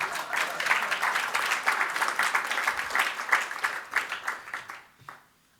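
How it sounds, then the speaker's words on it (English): A tech-conference audience at a Kubernetes talk claps steadily at a moderate distance, the applause thinning into scattered claps and fading out near the end. "You can clap now."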